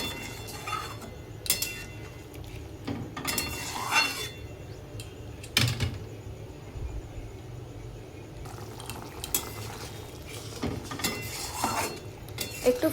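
Paneer masala is stirred in a pan with a utensil, giving scattered scraping and clinking strokes against the metal at close range, with no talking.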